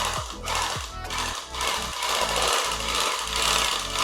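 A YaoHan N602A twin-thread sack sewing machine stitches, giving a loud, close, rapid mechanical clatter with a heavy low thump that pulses through the whole stretch.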